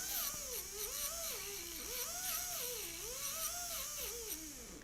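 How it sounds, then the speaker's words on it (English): A coarse flexi-disc spins on a mandrel against a composite tooth, giving a high, steady whine whose pitch rises and falls in waves as the disc loads and eases off. "I'm just going to roughen up the tooth using my coarse disc"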